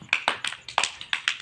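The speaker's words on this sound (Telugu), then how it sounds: "క్లాప్స్ కొట్టండి." A small group claps their hands in a quick, uneven rhythm of sharp, close claps, several bursts in a short span with no talk over them.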